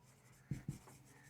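Two quick chalk or marker strokes on a board in a Class 12 maths lesson, short dull taps close together, nearby and quiet against a low steady background hum.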